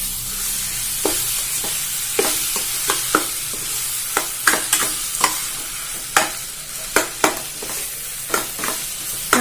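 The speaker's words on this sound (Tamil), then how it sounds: "நல்லா வதக்கி விட்டுடுங்க." Potato curry is stirred and sautéed in a pan, with a soft continuous sizzle broken by a dozen or so sharp scraping stirs at irregular intervals, close and clear with no talking.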